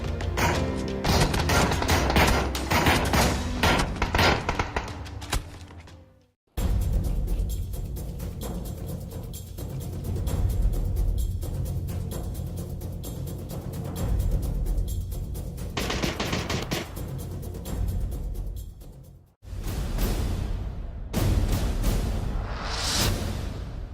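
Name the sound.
gunshots from a video game weapon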